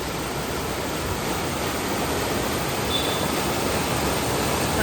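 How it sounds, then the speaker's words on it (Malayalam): A river flowing down from upstream at Aruvikuthu in Pallikathodu, Kottayam, gives a steady, loud broadband rush of water that holds constant without a break, with no voices over it. "മോളിൽ നിന്ന് ആ പുഴ ഇങ്ങനെ ഒഴുകി വരുന്നൊരു കാഴ്ച ഉണ്ടോ."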